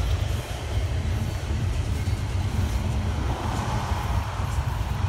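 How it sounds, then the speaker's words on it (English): A freight train heading to Kansas City rolls past, a steady low rumble with a faint clatter of wheels, moderately distant and continuous. "Now that is a train heading to Kansas City."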